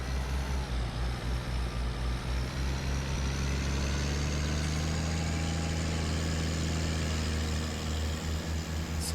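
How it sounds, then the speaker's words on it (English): A heavy tractor engine in Farming Simulator 19 runs continuously at a loud, steady low rumble, close and unbroken for several seconds, with no talking. "That is a beefy, beefy engine right there."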